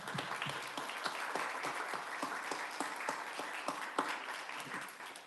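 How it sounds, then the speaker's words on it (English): Audience applause after an introduction at a Ramadan reflection gathering, a steady wash of many hands clapping with faint individual claps popping through, moderately distant and continuing throughout. "So I'll give up a round of applause for Believers Bella."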